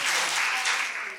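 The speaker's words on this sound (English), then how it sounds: "Most everybody clap" A small group at an art-sharing session for older adults claps briefly for a painting, a short burst of soft, close applause from a handful of people.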